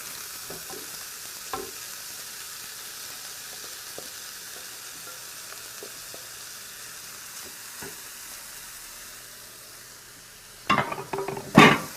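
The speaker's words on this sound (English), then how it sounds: "So now what I'm going to do is introduce the cauliflower rice." Cauliflower rice fries in a pan with a quiet, steady sizzle, a few soft stirring scrapes, and louder clattering stirs near the end.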